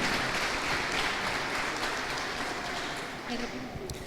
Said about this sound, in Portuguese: aplauda o nome de Jesus